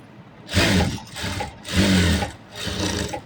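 A sewing machine stitches a blouse in three or four distinct bursts of whirring motor and needle clatter, close and loud, with short quieter gaps between runs.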